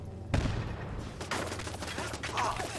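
Bursts of rapid gunfire from a turret crackle loudly in a Fallout 4 scene, a sharp shot followed by sustained rattling volleys with faint voices underneath.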